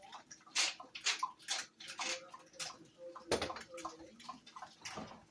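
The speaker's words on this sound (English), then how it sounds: "Let me put some pepper." A pepper grinder twisted over fried eggs makes a faint, close, gritty crunching that comes in short repeated bursts, with a louder knock partway through.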